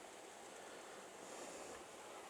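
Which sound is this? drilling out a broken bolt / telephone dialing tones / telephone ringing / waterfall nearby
waterfall nearby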